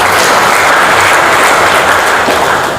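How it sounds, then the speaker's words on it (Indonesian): Loud, dense applause from an assembled crowd at a Tamansiswa gathering, sustained and even throughout, easing off slightly at the very end, with no talk over it. "Tepuk tangan untuk kita semua."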